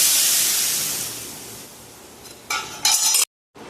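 Ground coconut goes into a hot mustard seed and curry leaf tempering, giving a loud hiss that fades over a couple of seconds, then a few short scraping stirs before a sudden cut.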